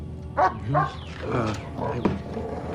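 A dog barking and yipping in a tense scene, several sharp, fairly close barks with whimpering tones spread over a few seconds, mixed with voices in the background.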